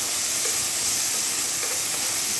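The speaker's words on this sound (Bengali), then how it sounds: "একটু সামান্য জল দিয়ে এটাকে ভেজে দেবো" Spices and onion paste fry in a pan with a little water, giving a loud, steady sizzling hiss that fills the whole short stretch without pause.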